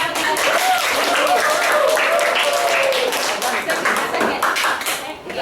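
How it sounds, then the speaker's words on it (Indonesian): A classroom of students applauds together, a dense sustained burst of many hands clapping for about five seconds before thinning out, with voices mixed in underneath. "Yang nilai 100 tepuk tangan"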